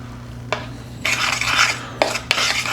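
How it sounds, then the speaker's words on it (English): A fork scrapes and rasps around a bowl of dry cinnamon roll ingredients (cream of rice, protein powder, baking powder, cinnamon), loud and close, with rough bursts and sharp clinks against the bowl. "Now we're going to mix it. I like to mix with a fork."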